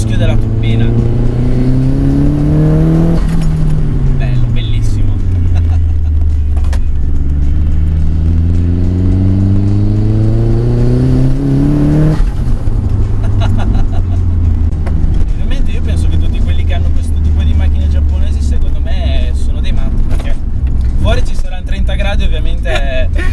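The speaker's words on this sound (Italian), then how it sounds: "ci si può godere tanto il suono puro del motore e il fischio della turbina" A Nissan Silvia 180SX S13.5 engine revs up and down repeatedly, loud and close, its pitch sweeping through several rising pulls, with a turbo whistle over the top and a voice talking throughout.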